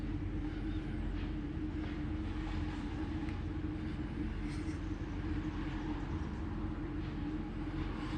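A household furnace blower runs steadily, a loud continuous low rumble and airy whoosh with no letup and no voices.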